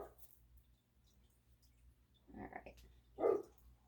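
A dog barks outdoors at a distance, a few faint, muffled barks in short bursts with quiet gaps between them.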